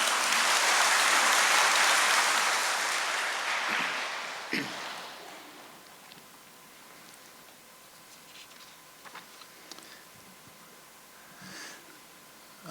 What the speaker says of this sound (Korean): 단위로 모실 때 큰 박수 부탁드리겠습니다.